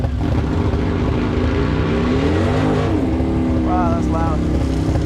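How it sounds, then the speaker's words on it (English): A motorcycle engine with a stage 2 tune revs hard and loud on a shop lift, its rough tone holding steady with brief pitch swells, close up and without pause. "So he's currently tuning a different bike."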